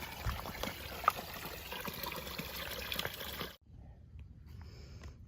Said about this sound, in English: Look at this beautiful water source.